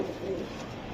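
A pigeon gives a soft, low coo lasting about a second, faint and close, with a light background hiss.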